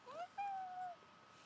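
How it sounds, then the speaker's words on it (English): A pet house cat gives a short meow, then a longer, drawn-out groaning meow right after it. Both are close and fairly quiet. "She's a beautiful meow."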